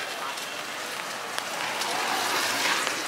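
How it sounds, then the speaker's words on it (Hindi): Steady rain falling outdoors at a temple as dusk comes on, a dense even patter close around, with no clear voices. "अंधेरा हो रहा है क्योंकि बारिश हो रही है"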